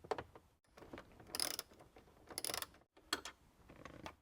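A ratchet loosens a 7mm bolt behind the glove box of a Ford Bronco. Quick bursts of close, crisp clicking come in several short runs with brief pauses between them, and no talking.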